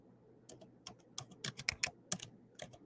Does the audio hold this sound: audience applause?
no